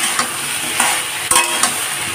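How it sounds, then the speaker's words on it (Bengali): Mixed vegetables with a fish head fry in a pan over a high gas flame for chachori, with a steady sizzle broken by four sharp scraping stirs of a spatula. "থালাটা খুলে সবজিটাকে আবার নাড়াচাড়া করে নেব। আর গ্যাসটাকে এখন একটু 2-1 মিনিটের জন্য হাই ফ্লেমে করে দিলাম।"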